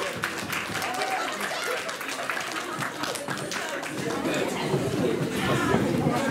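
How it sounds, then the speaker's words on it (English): Steady audience applause and clapping at a comic con cosplay contest, a dense crowd sound that holds throughout with chatter and a presenter's voice mixed in. "Can we have a round of applause, please?"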